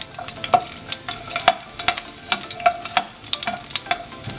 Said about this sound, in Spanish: Está caliente nuestro sartén, agregamos nuestros 4 dientes de ajo.